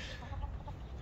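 A buff Silkie hen clucks softly nearby, a low murmuring run of clucks over steady background noise in a backyard coop setting.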